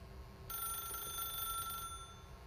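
A telephone rings in the video game The Stanley Parable, one continuous electronic ring over a low background hum, clear and close without voices.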